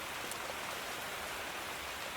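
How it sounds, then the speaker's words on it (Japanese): Steady, even rain pours down in a dense hiss with no breaks, a continuous downpour in an anime scene, no voices present. "こんな雨だった。"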